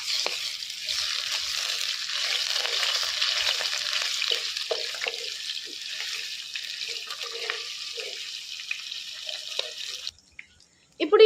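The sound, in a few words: frying ginger garlic paste in a pan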